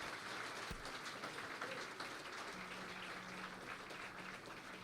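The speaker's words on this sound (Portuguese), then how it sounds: "Celebre a Ele com as suas palmas." A church congregation claps in praise during a Sunday service, a faint, distant wash of steady applause with a low hum beneath it.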